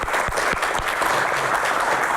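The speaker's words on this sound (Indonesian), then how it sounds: "Tepuk tangan." Audience applause at a medical panel forum, a dense and steady wash of clapping heard up close, with no voices over it.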